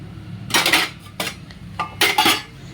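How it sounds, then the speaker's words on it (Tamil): Ceramic tea cups and a tea pot clink and clatter in a home kitchen as they are gathered up for washing, several bright knocks in separate bursts, close and fairly loud with no talking. "ஸோ நம்ம இந்த டீ பாத்திரத்தை டீ கப் எடுத்துகிட்டு போய் வாஷ் பண்ண போட்டுடலாம்."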